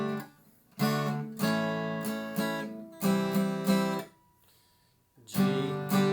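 Acoustic guitar strumming a repeating chord progression in a steady rhythm, with several bursts of chords separated by short pauses, fairly close and alone with no talk.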